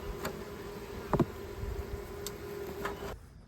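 Honeybees in an outdoor bee yard during hive expansion work, a faint steady drone of insects holding through the moment, with brief ticks and a short rattling knock near the middle before it cuts out at the end.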